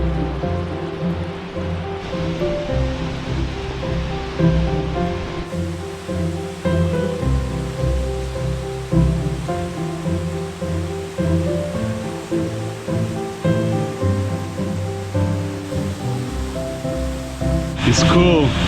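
A roaring waterfall in a mossy Washington State forest with giant boulders nearby, a steady broadband rush of water close by and loud throughout, with wind-like rumble and some bumps.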